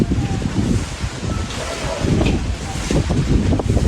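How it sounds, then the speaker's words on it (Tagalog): Strong wind buffets the microphone in a garden in a loud, continuous roar with gusty rumbling. "Oh, lakas ng hangin."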